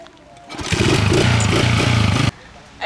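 A motorcycle engine runs loud and close for about two seconds with a steady, buzzing roar and slight pulsing, then cuts off abruptly, leaving a quiet background.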